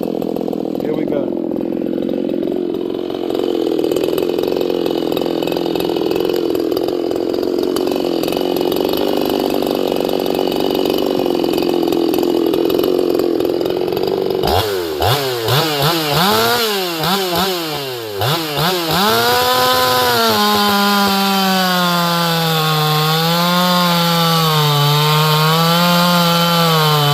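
An Echo 501p chainsaw cuts through a log, running loud and close; the engine drones under load, then revs and bogs in waves before settling into a steady high whine.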